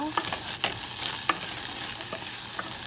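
Onion rings fry in olive oil in a pan, a bright continuous sizzle with a few crisp stirring clicks, close and loud, no voices.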